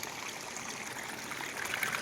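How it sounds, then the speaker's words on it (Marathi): Water forcing its way out through leaks in an earthen dam, the Mothamal dam, makes a faint, continuous rushing trickle that swells slightly toward the end. "या धरणातून जिथून तिथून उपळे निघू राहिलेत बाहेर जोराजोराच्या पाण्याने"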